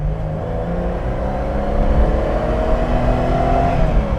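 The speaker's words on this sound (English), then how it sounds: "It's now time to open it up and feel a bit of that 3-litre V6 magic." A 3-litre V6 in a Ford Capri Mk I 3000 GT XLR revs and pulls hard, a loud steady engine drone heard from close by with rising pitch.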